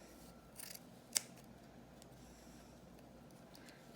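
Scissors trim fabric for a cloth face mask, with a soft snipping rasp followed by one sharp, crisp cut, quiet and close in an otherwise still room.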